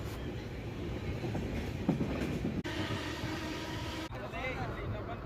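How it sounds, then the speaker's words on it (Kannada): A morning train from Bengaluru rolls steadily along the rails with a low, continuous rumble and a couple of abrupt clunks as the carriage moves. "ನಾನು ಬೆಂಗಳೂರಿಂದ ಮಾರ್ನಿಂಗ್ ಟ್ರೈನ್ ಎತ್ಕೊಂಡು ನಮ್ಮೂರಿಗೆ ಹೋಗ್ತಾಯಿದ್ದೀನಿ"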